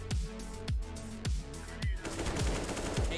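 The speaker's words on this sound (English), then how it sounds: "AK-47." AK-47 gunfire in the video game Counter-Strike on de_inferno, six sharp single shots spaced about half a second apart, loud and close, with a faint voice briefly over the later shots.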